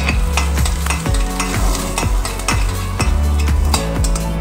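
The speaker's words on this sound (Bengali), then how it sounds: "ফোড়নে আমি দিয়ে দেবো রাঁধুনি ফোড়ন, আর দিয়ে দেবো আমি আদা কুচি।" Radhuni seeds and chopped ginger tempering in hot oil, a steady loud sizzle with a spoon scraping the pan in a regular rhythm about twice a second, close up and with no voices.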